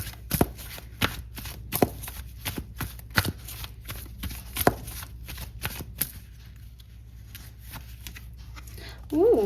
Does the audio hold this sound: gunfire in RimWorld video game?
no